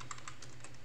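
A computer keyboard gets a few quiet key presses for a shortcut in the nano text editor, faint soft clicks in a short cluster with no talk.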